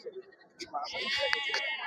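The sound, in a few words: Sojat breed goats bleating at Chakan market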